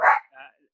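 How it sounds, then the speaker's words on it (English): A dog barks twice in quick succession, a loud close bark followed by a softer second one, heard indoors in a home during an online conversation. "Sorry, that's my dog."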